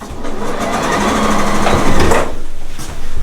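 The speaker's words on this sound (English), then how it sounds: "I'm going to start here, sew around to here, in a 1/4 inch seam" A sewing machine running a quarter-inch seam on fabric, a loud, close, rapid mechanical whir with steady stitching rhythm that briefly pauses and restarts near the end.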